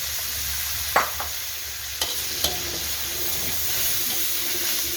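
Bacon stir-fried with holy basil in a pan, a steady sizzling hiss with a few sharp clinks of a spatula against the pan near the start, no talking.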